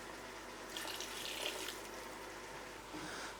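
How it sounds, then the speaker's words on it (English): Water is splashed into a pan of barbecue sauce made with sautéed tomatoes and apple cider vinegar, giving a brief close, soft pour and sizzle. "I'll add a splash of water actually."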